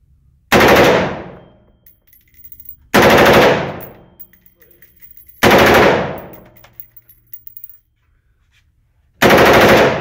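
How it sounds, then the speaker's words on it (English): Full-auto machine gun fire in four loud, close bursts, each a dense rapid string of shots that rings out and decays before a pause, with only faint background noise between bursts. "And whenever you want to go full auto, let me know."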